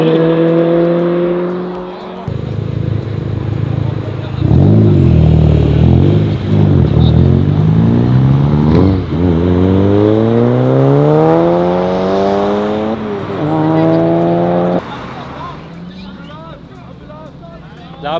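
Race cars accelerate hard at a car race, their engine notes climbing in repeated rising sweeps through the gears, loud and close, with shouting voices mixed in and the roar cutting off near the end.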